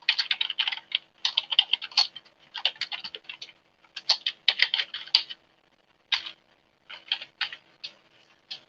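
Computer keyboard typing in quick bursts of close, crisp keystrokes separated by short pauses, with no voices.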